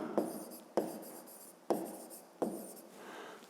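Pen writing on paper during a fifth-grade maths exercise, four short scratchy strokes each starting with a tap, close and quiet, with no talk over them.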